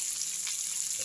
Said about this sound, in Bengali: বেগুন ভাজা হয়ে যাচ্ছে